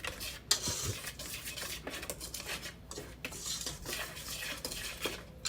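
Hoe cake batter is whisked in a bowl, a quick, continuous clatter and swish of metal against the bowl, close and fairly quiet.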